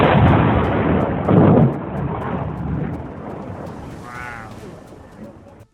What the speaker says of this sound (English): In slow motion, a thunderstorm near San Diego revealed each lightning bolt in stunning detail against the